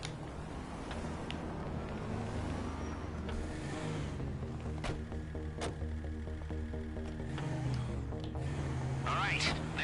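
A car engine hums and shifts as it drives in Grand Theft Auto Online, with scattered thumps and game effects, and a voice talks over it.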